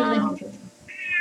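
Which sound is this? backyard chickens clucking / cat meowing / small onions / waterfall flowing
cat meowing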